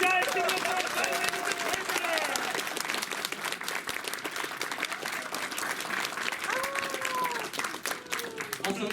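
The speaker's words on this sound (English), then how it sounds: "Guys, give them a round of applause" Audience applause and cheering for stand-up comedians at a comedy show, loud and sustained throughout, with crowd voices and whoops mixed in.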